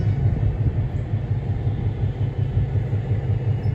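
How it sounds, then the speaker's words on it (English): A 1954 EMD 606 diesel locomotive eases onto a turntable, giving off a close, steady low rumble with a soft rhythmic thumping throughout. "As the locomotive gets centered here on the table"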